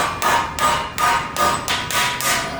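A hammer taps a folded metal piece held in a vise, about seven rapid ringing strikes in an even rhythm, loud and close with no talk.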